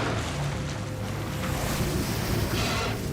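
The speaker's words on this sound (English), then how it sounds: "The noise of ship engines traveled thousands of miles underwater." Engines of large modern ships heard underwater form a loud, steady, unbroken rumbling wash that stays constant throughout.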